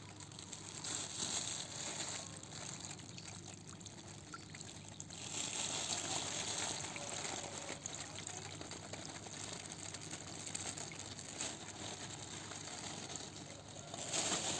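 Water carrying 2000 catfish fry poured into a pond, a steady faint splashing trickle running continuously throughout.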